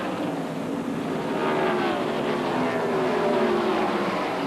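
A NASCAR race car at the 1995 Purolator 500 comes down off the banking onto pit road, its engine note falling steadily as it slows, loud and close against the background roar of the track.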